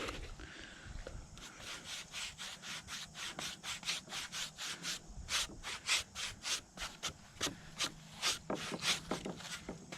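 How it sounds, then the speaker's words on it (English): A brush spreads coating across a new boat floor in quick repeated strokes, each a short scrubbing swish, close up and steady, with occasional taps of the brush against the side to shed excess. "I'm dipping, spreading, and then hitting the side with the excess that's on the brush"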